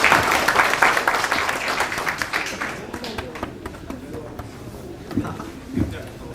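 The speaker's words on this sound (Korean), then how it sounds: "다시 한번 박수 부탁드리겠습니다." During a political party policy talk show, the audience applauds after an appointment ceremony, brisk clapping loud at first then thinning out, with people talking over the tail end and a few stray taps.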